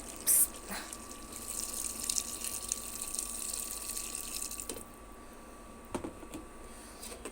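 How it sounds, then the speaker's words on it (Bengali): Water pours into a cooking pot of stir-fried cauliflower in a home kitchen, a steady close rush that stops partway through, followed by a few light knocks and clinks. "পরিমাণ মতন পানি দিয়ে দিলাম"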